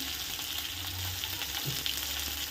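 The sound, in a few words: onions and Byadagi chillies frying in a pan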